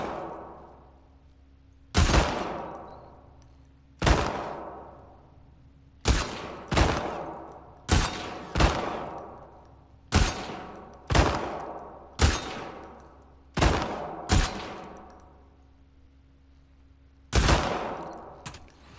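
Sharp, loud gunshots from The Last of Us Part II ring out one at a time, about a dozen spaced reports with brief echoing tails, sometimes in quick pairs, over a quiet low hum.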